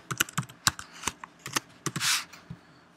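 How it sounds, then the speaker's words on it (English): Keys clatter on a computer keyboard in an uneven burst of close, crisp taps, ending with one longer rattling press, with no voices. "I'll just type in, weekdays here for now."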